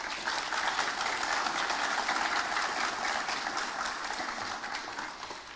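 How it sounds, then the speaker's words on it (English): Steady, dense applause from a large crowd at a speech by Crown Prince Haakon of Norway, loud and continuous, tapering only slightly toward the end. "Ladies and gentlemen, please a round of applause."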